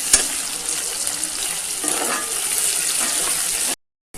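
Water is poured into a hot pan of browned, fried onions while making upma, giving a loud, steady sizzling hiss and splash close by. It cuts off abruptly near the end, with no voices.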